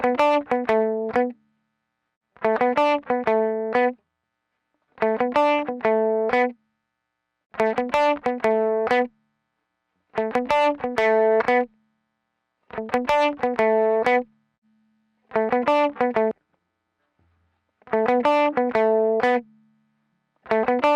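A mix run through the Goodhertz Tupe plugin's 6L6 tube saturation plays in short repeating bursts of tonal, saturated harmonic sound, about eight loud phrases split by brief silences as the setting variations are switched.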